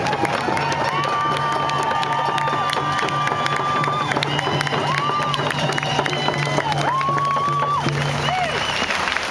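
Crowd at an outdoor Kinder Morgan pipeline protest at Science World cheers and applauds, a steady roar of clapping with rising whoops and shouts over a constant hum throughout.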